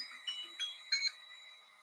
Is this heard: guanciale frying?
no